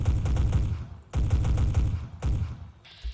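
Three rapid bursts from the M93R Auto 9 machine pistol in Fallout 4, each a dense roughly one-second string of loud gunfire separated by brief pauses, with no talking over them.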